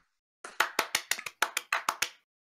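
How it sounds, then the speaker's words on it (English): About a dozen hand claps ring out in fairly quick succession, close and crisp, with no voices over them. "You get the slow clap of approval."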